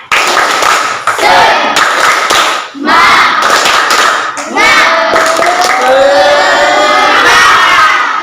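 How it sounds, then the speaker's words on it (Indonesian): Classroom of children performing a rhythmic spirit clap chant, loud unison clapping mixed with energetic shouted chanting close by. "Silakan, ayo tepuk semangat."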